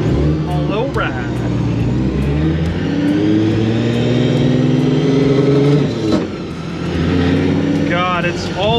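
A car pulling away after warming up, the mid-pitched engine revving up through gears with rising tones, close and loud inside the cabin, while a person talks over it.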